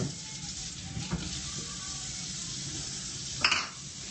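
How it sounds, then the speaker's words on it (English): Diced tomatoes and chopped onion cook in a pot with a steady low sizzle. One brief clatter of a utensil against the pot comes near the end, close and moderately loud. "And then we're gonna add our one chopped onion."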